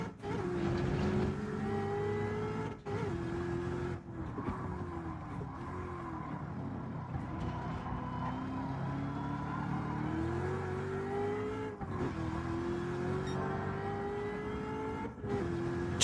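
A car engine in the racing game Gran Turismo 7, driven with a three-pedal setup, hums steadily and climbs in pitch through gear changes, with a few brief dips as shifts cut the sound.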